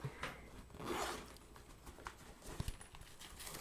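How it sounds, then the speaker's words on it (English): A zipper pulled in a few short, quiet strokes close by, with soft handling noises between them. "we have a zipper across the top"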